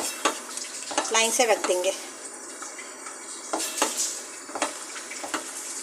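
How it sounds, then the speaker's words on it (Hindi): Onion paste and yogurt masala for aloo kofta fry in a pan, with soft sizzling and the clink of stirring under someone speaking Hindi. "अब इसे हम 2 मिनट भूनेंगे"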